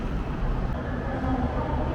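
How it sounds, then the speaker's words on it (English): A low, steady rumble of a red-line train drawing into a station in Thailand, continuous and fairly loud, with no clear voices. "And here comes the train"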